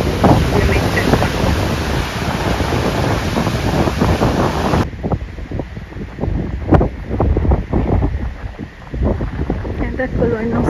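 Sea waves and strong wind on the coast at Grado, with loud buffeting wind noise on the microphone for the first half, then a rougher, broken wash of surf that continues alone.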